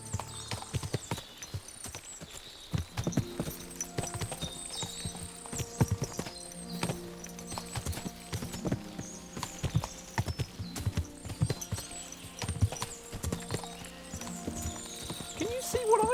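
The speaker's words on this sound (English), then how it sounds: "What a lot of horses!" Many horses in the medieval game Kingdom Come: Deliverance II clop their hooves steadily and without pause, with several whinnies and neighs rising over the busy trampling at a fortress.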